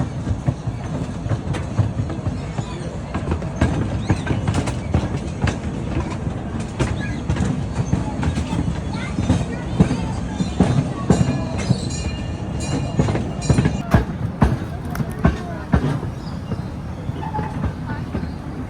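A small zoo train at Brevard Zoo rolls steadily along rails, with continuous rumbling and rhythmic clacking, loud and close throughout, a few faint voices mixed in.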